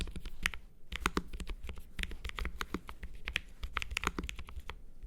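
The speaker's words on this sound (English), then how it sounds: "keep clicking those keyboard caps" Dense, quick clicks of a computer keyboard with a soft, creamy tone, keys pressed in rapid irregular bursts, close and fairly loud throughout, with no talking.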